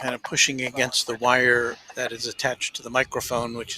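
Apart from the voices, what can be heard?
No everyday noises stand out.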